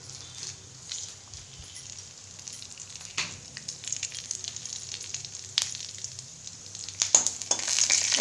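Spices for phutana tempering crackle and sizzle in hot oil in a pan, starting faint and growing denser and louder, with sharp popping bursts scattered through the hiss.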